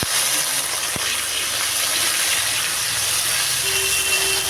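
Cut potatoes drop into hot mustard-oil left from frying pabda fish, with nigella seeds and bay leaf, setting off a loud, steady hissing sizzle that continues without a break and with no one talking.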